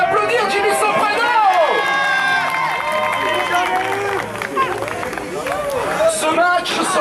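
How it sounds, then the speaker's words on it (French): Crowd at a live indoor wrestling match cheering and clapping after a move, dense loud roar with whistles and shouts, while a ring announcer talks over the noise. "joli, on peut applaudir Jimmy Soprano"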